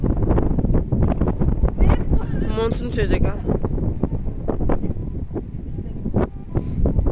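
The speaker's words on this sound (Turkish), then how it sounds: "Rüzgar çok kötü ya" Strong wind buffets the microphone in steady gusts in Berlin while a person talks close by over the rumble.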